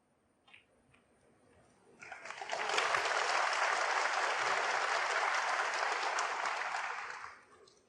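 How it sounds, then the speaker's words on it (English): A snooker crowd at the Shanghai Masters semi-final cheers and applauds. The roar starts suddenly after a quiet moment with a few faint sounds, holds loud and steady for about five seconds, then dies away. "you can hear the big cheer from his supporters"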